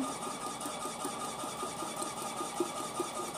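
A Milkbot mini milk-dispensing machine runs with a steady mechanical hum and faint regular ticking pulses, heard alone at low volume.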